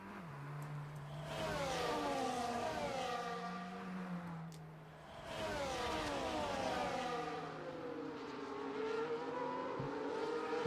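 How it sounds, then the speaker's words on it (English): F1 24 race cars bunch up behind the safety car climbing the hill at Monaco, engines droning and revving in long rising and falling sweeps, loud and continuous with a brief dip midway. "comes onto the back of the safety car as we climb up the hill towards Massenet"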